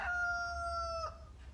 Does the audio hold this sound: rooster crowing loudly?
yes